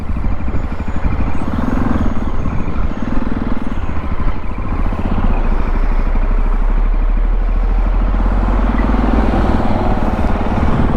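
A motorcycle engine running loud and close, a constant rough throbbing rumble that holds steady throughout.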